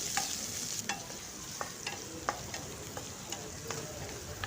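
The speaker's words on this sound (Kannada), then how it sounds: "ಈರುಳ್ಳಿ ಹಾಕಿ ಸ್ವಲ್ಪ ಫ್ರೈ ಮಾಡ್ಕೊಳ್ಳೋಣ ಇದಕ್ಕೆ ಕರ್ಬೇವು ಹಾಕೋತಾ ಇದ್ದೀನಿ" Onion, curry leaves and green chilli frying in a pan for uppittu, a steady soft sizzle broken by repeated sharp scrapes and taps of a stirring spoon, close and fairly quiet with no talk.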